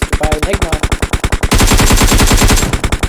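Rapid automatic rifle fire in a competitive video game esports match, loud dense bursts of rhythmic shots that thicken into near-continuous fire, close and dominant.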